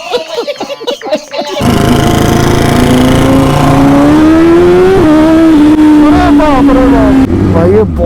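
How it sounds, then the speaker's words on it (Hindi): A BMW S1000RR sportbike starts and then revs hard, its loud, close engine rising and falling in pitch through repeated throttle blips for several seconds before settling. "पुलिस वाले खड़े हुए हैं यहाँ पे, आवाज सुन रहे होंगे अपनी मोटरसाइकिल की"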